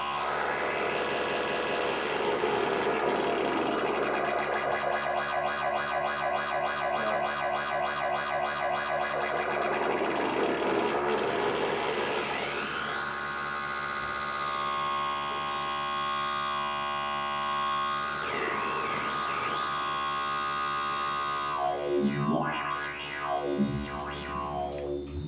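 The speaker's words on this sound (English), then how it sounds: "let's take another oscillator and use another oscillator as a modulation source." Synthesizer tone from an oscillator frequency-modulated by a second sine-wave oscillator, a loud, buzzing, harmonically rich drone whose timbre sweeps and warps, turning bell-like and metallic with gliding pitch bends toward the end.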